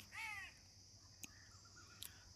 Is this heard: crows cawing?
yes